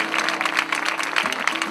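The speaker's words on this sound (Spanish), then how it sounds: "Un aplauso." Applause from an audience at a rociero choir event, dense steady clapping throughout with a low sustained tone running underneath.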